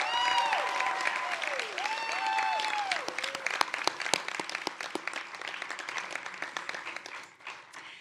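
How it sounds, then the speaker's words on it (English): Sustained applause from a crowd at a graduation celebration, dense clapping throughout with some cheering voices mixed in, gradually thinning toward the end. "can we get another round of applause for our amazing graduates?"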